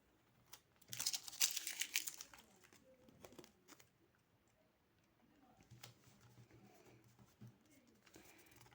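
Close paper crinkling and tearing as a small paper surprise packet is opened, a brief burst of rustling followed by quieter handling sounds.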